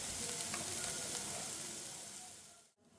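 Corn fries in a pan with ginger garlic paste, green chillies and garlic for crispy corn, making a steady, bright sizzle that cuts off sharply near the end.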